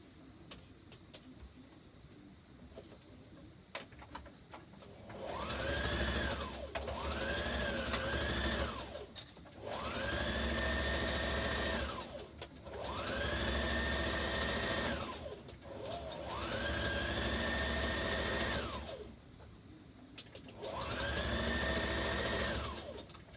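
A domestic sewing machine stitching a dart on a misses' dress runs in five steady bursts of several seconds each, its motor whirring close by with brief pauses between runs and no voices.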